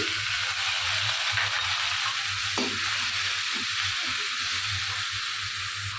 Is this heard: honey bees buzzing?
no